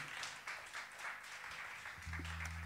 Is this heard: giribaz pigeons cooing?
no